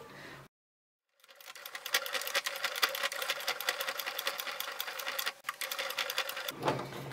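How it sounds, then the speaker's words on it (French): A sewing machine stitches along the edge of a transparent vinyl PVC pouch, a close, fast, even run of needle clatter that starts after a brief silent pause, dips for a moment, then continues until it stops near the end. "on va faire une petite couture, donc ici sur le bord, et là aussi"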